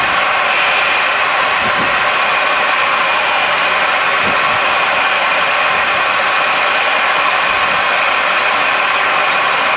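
Airliner engines spooled up to takeoff thrust from inside the aircraft, a loud, steady broadband roar with a constant whine riding on top, filling the whole stretch without pause.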